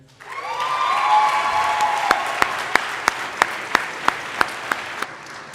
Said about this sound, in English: Can we take a moment to give a round of applause to the class of 2023?